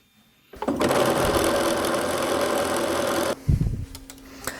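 A domestic sewing machine runs steadily for about three seconds as it stitches a facing onto a dress made from McCall's 7970. The motor then stops, followed by brief fabric handling. No one speaks.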